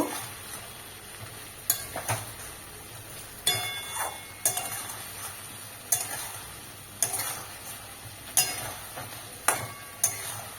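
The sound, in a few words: frying spice mixture for soybean cauliflower curry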